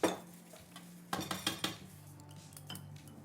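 Eggs and milk are whisked in a bowl for Oreo pancakes, heard as a clinking metal strike followed by a short burst of rapid clinks against the bowl, then softer scraping.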